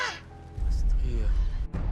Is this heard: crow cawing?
yes